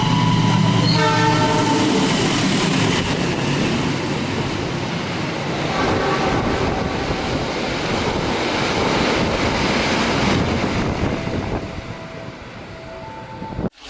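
A passenger train rushes past close by with a loud, sustained roar and a sounding horn early on, fading toward the end, heard from aboard a waiting train in Indonesia.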